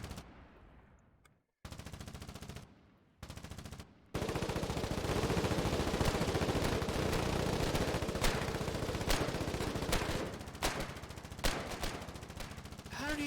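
Automatic weapon fire in the war game Foxhole, sustained loud bursts of rapid shots after a few short opening volleys, dense and close with scattered distant cracks.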